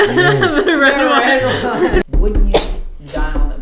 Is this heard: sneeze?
yes